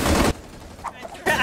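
Burst of gunfire from a Tom Clancy shooter video game, a loud volley at the start and another at the end, with quieter game noise between.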